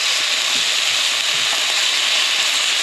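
Tofu, shrimp and sauces sizzle loudly in a hot pan, a steady, close, bright frying hiss with no voices.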